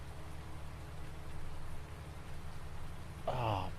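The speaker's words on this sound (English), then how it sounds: "I knew it was going to rain about 8 o'clock." Rain in Farming Simulator 19, a steady, soft hiss of falling rain, with a brief game sound near the end.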